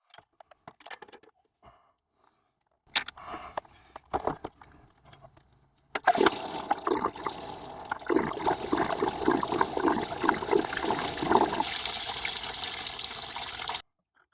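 Coolant from a Toyota Highlander Hybrid 3MZ V6 pouring into a cement mixer after the water pump is removed, a steady loud splashing rush that follows several seconds of scattered clinks and drips.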